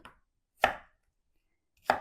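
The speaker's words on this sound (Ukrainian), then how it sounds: "Картопельку нарізаємо, нарізаємо кубиком." A knife chopping potatoes into roughly one-centimetre cubes on a board for clam chowder, two sharp, close, separate cuts with silence between them.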